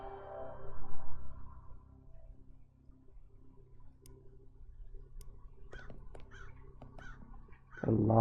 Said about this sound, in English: A lot of birds.